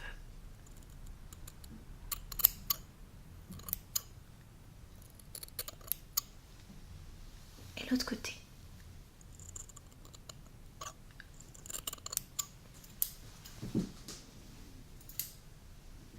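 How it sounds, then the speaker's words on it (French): Crisp snips of scissors cutting hair, clustered in quick bursts near the ear, with a soft voice speaking briefly between them. "je vous coupe une petite mèche de cheveux"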